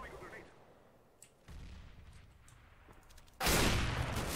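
Gunfire in the shooter game CS:GO, with several sharp shots and a heavy close burst near the end over a low background of game ambience and faint talk.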